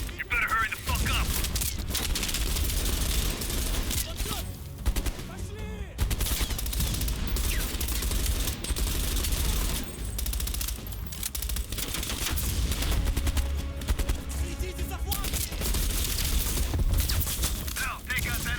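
Dense, rapid bursts of automatic gunfire from a machine gun nest in Call of Duty Black Ops Cold War, sustained crackling volleys near and loud for most of the stretch, with a short lull partway through.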